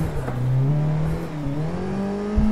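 A 333hp Nissan 180SX drifting on a track, its engine revving loudly and steadily with rising and falling pitch throughout, close and continuous, with a brief thump near the end.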